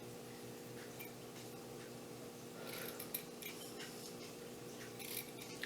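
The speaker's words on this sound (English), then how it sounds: "these Klein electrician scissors are the sharpest scissors I have in my house, and they cut this extremely cleanly" Klein electrician scissors snip through small pieces of material, giving a quiet series of crisp cutting and rubbing sounds close by with no talk.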